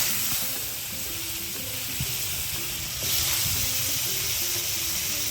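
Thinly sliced potatoes frying in hot oil left over from earlier frying, a steady close sizzle and hiss with faint stirring clatter, continuous throughout and no talking.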